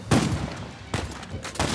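Gunfire in Uncharted 4 comes in three loud, close bursts of rapid shots separated by brief pauses, with no talk.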